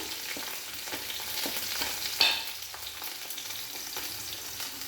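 Whole cumin seeds crackle and sizzle in hot oil for a spicy ghugni, a steady close hiss broken by quick pops and one sharper spatter, no voices.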